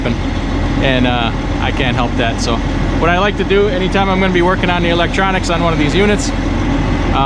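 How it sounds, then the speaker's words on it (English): A truck engine idles at a truck stop as a steady low rumble beneath someone talking close by throughout. "there's a guy idling behind me here in the truck stop"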